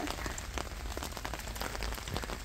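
Rain falls steadily on plants and surfaces in a small vegetable garden in France, a constant close hiss dotted with scattered drops, with no voices.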